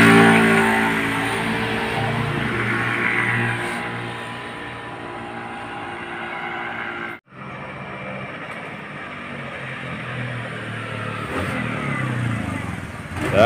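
A Honda Scoopy FI scooter, tuned for stronger pull, accelerates on a test ride with a steady, fairly loud engine drone that briefly cuts out midway before picking back up.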